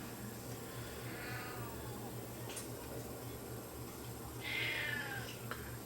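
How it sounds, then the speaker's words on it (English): A house cat meows for attention indoors beside a steady electrical hum, with one short faint call early on and a clearer, longer meow near the end. "Cat wants my attention."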